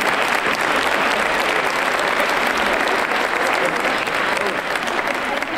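Loud, dense applause from an audience at a fashion gala, a sustained roar of many hands clapping at once, close and continuous, with faint crowd murmur mixed in.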